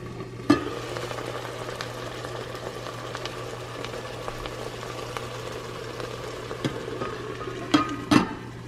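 Sausage frying in a pan gives a steady, moderate sizzle with faint crackle throughout, broken by a few sharp clinks and clatters near the start and end.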